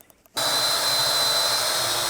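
Power drill with a large bit boring into wood, starting abruptly after a moment of near silence and then running as a steady high-pitched whine with grinding texture.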